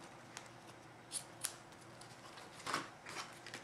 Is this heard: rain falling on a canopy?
no